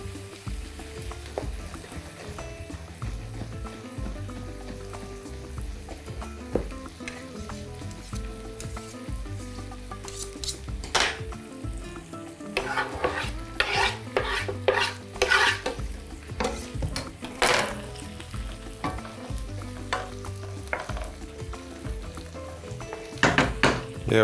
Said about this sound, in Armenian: Եվս մեկ անգամ շրջենք կաղամբը, այս անգամ փորձենք ուրիշ գործիքով